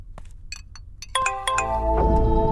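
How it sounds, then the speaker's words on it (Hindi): A phone ringtone starts after a few soft clicks, a bright electronic melody sounding loudly and continuing to the end. "फोन बजा अभी"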